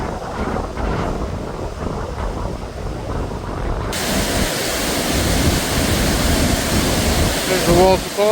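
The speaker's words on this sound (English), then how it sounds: "There's the waterfall." Powerful waterfall on Scotland's NC500 route in February, a loud, steady broadband roar with gusty wind buffeting the microphone throughout, growing slightly fuller toward the end.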